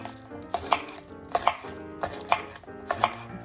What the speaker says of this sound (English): Chop our onions